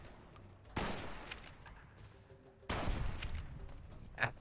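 Two sharp gunshots in the Fallout New Vegas video game, each a loud isolated crack with a short decaying tail, spaced about two seconds apart over a quiet background.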